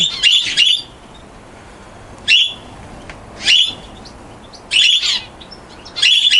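Zebra finches chirp in short, bright bursts, several clusters of rapid tweets separated by brief pauses, loud and close.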